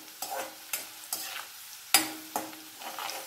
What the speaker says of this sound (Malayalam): ഇഞ്ചി വെളുത്തുള്ളിയൊക്കെ ഒന്ന് മൂക്കണം കേട്ടോ